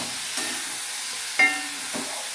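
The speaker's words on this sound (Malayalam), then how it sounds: "ഇനി നന്നായിട്ട് ഇളക്കി കൊടുക്കാം." Tomatoes frying in a pan for prawn roast, with a quiet continuous sizzle and a few soft stirring scrapes.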